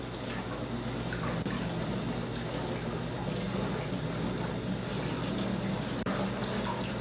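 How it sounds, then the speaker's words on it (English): Lukewarm tap water runs steadily over a t-shirt printing screen being rinsed clear, a continuous close splashing wash with no pauses. "I have lukewarm water running over this"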